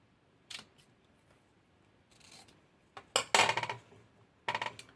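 Scissors snip through the stems of a paper flower bridal bouquet as they are trimmed to size: a few sharp, close clicks and cuts with quiet pauses between them, the last several bunched together.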